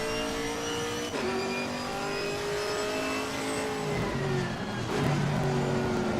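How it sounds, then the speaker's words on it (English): A GT4 race car engine in the racing video game Assetto Corsa Competizione drones steadily with rising and shifting pitch as it accelerates through gears, loud and continuous with no talking. "Can you guys hear the car?"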